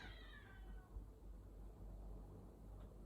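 A pet cat gives a single faint meow at the start, tailing off into quiet room noise with a low rumble underneath.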